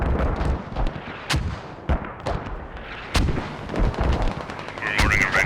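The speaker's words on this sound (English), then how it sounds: "Mortars being utilized as normal from double FOBs." Mortar impacts and gunfire in the Squad military shooter game, during a competitive match with mortars fired from two forward bases: a series of sharp, loud bangs and booms at irregular intervals over a dense layer of battle noise.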